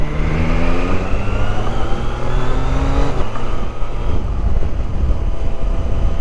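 A motorcycle passes on an open road, its engine tone rising and then falling away. It is heard over the loud, steady roar of wind and engine noise from another moving motorcycle.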